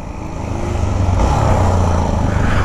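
A motorcycle engine drones close by, its roar swelling and rising steadily as it pulls away under throttle while the clutch is released slowly.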